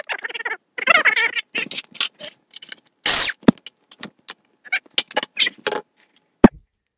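Lug nuts spun off the wheels of a Corvette Z06 raised on a lift, already loosened, give a string of metallic clicks, rattles and short whirring bursts, close and fairly loud, with one sharp clank near the end.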